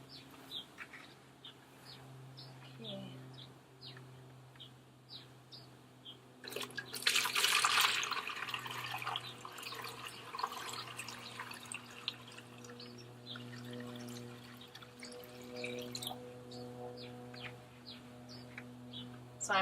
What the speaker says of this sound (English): So we're going to go ahead and strain some of this into a bucket.